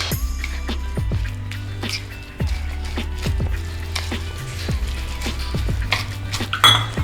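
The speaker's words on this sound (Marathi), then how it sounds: "आता आपण थोडं थोडं पाणी ॲड करून मिक्स करून घ्यायचं" Besan dough being mixed in a metal bowl as water is added little by little, with repeated clinks and scrapes of a utensil against the bowl in a steady rhythm, close and fairly loud, with no talking.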